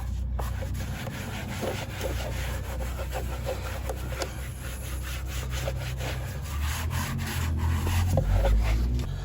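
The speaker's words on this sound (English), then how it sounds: "we'll pull our funnel, wipe it off, make sure there's any grease there, any oil" A rag wipes off an oil funnel during a Honda Accord oil change, producing close, steady rubbing and scraping strokes that repeat in quick succession over a low background rumble.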